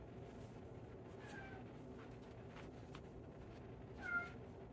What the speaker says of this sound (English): My cat will not shut up.